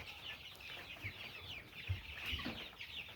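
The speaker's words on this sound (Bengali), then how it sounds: "আমার মুরগিগুলা মোটামুটি সব এক সাইজেরই" Chickens cluck softly and repeatedly nearby, short murmuring calls overlapping in a quiet coop.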